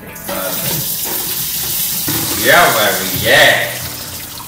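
Water from boiled lima beans pours and splashes through a strainer in a kitchen, with two louder gushing surges in the second half over a steady running-water hiss, while a person speaks briefly.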